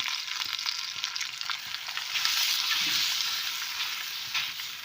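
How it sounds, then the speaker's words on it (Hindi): A makki roti, corn flour flatbread brushed with desi ghee, fries on a hot tawa with an even, soft sizzling hiss that holds steady throughout, nearby and with no talking. "ये मैंने अपनी रोटी तवे पे डाल दी है। अब इसमें मैं थोड़ा सा देसी घी लगाऊंगी"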